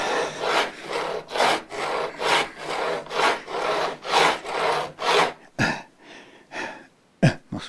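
A file rasps back and forth over metal frets on a Telecaster guitar neck during a re-fret, about a dozen rhythmic, close strokes, then a few scattered scrapes.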